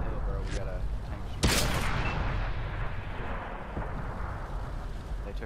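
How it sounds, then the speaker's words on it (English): Artillery fire in World of Tanks on Xbox 360: one sharp, loud blast with a long rumbling tail, plus a fainter thump earlier and another later, all under continuous battle noise. "Get out of there, artillery's on us"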